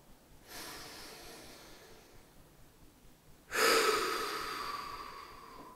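Two slow, deep breaths are drawn close to the mic during a side-lying glute activation exercise, a modified clamshell. The second breath is louder and fuller, with no talking.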